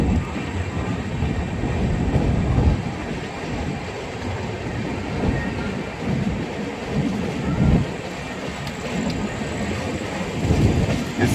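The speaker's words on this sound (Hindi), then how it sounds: "शाहबाद स्टेशन से डिपार्ट करती हुई ट्रेन अप्रॉक्सीमेटली 20 मिनट लेट।" The Udyan Express train departs Shahbad station, heard from on board as a steady, loud rumbling roll with rhythmic clickety-clack surges from the wheels over rail joints.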